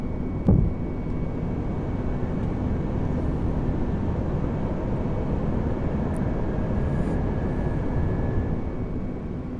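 Airbus A320 taking off and climbing in Microsoft Flight Simulator 2020, a steady loud jet engine roar that holds constant throughout, with a brief thump near the start.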